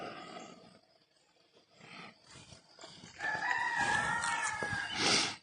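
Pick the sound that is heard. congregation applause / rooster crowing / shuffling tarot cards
rooster crowing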